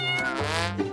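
A kitten gives a single short meow, close and clear, rising and then falling in pitch.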